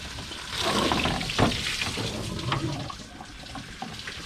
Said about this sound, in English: Now I'm going to let water go through.